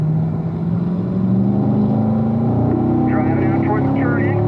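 A Corvette's engine drones loudly and steadily from inside the car on a racetrack, its pitch climbing gradually as it accelerates, while someone talks throughout.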